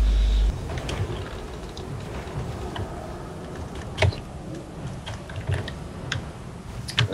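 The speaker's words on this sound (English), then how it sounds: "He does sound like he's smashing his keyboard." Hard, fast typing on a computer keyboard during a World of Warcraft Cataclysm 3v3 arena match, close to the mic, with sharp key clacks and occasional louder slams over a steady background.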